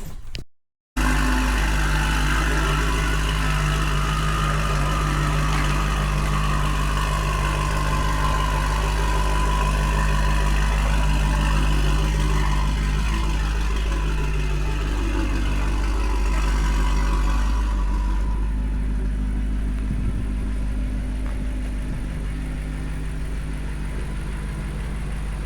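A BMW X5M idles and pulls slowly out of a shed, its engine a steady, close, loud rumble that holds for most of the stretch before easing off as the vehicle moves away.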